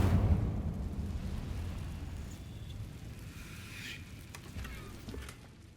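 Incendio fire spell cast in the video game Hogwarts Legacy: a deep, roaring whoosh of flame that rumbles steadily and slowly fades, with faint crackles over the top.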